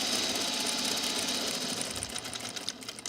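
Sewing machine stitching down a shirt placket on a dress project, a steady close mechanical whir with rapid needle clatter that grows slightly more uneven toward the end.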